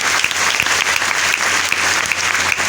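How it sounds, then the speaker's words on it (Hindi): Loud, sustained applause from an audience at a company gathering in Gorakhpur, dense clapping filling the whole stretch without pause. "एक बार जबरदस्त ताली बजाएं"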